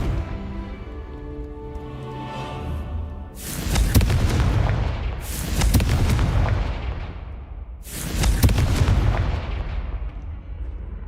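Three heavy blasts of a Confringo fire spell in Hogwarts Legacy, each a loud booming burst with a rumbling tail, spaced about two seconds apart after a quieter musical opening.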